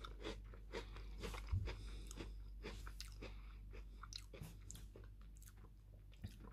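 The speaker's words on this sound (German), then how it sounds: "Also schon mal sehr knusprig der Keks." Close, quiet bites into a crunchy Prinzen Cremys cream-filled biscuit, with repeated crisp crunches and chewing and no talking.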